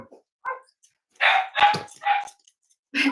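Dogs bark in a short burst of several sharp, fairly close woofs, preceded by a few softer yips, with gaps of quiet between the barks and no speech.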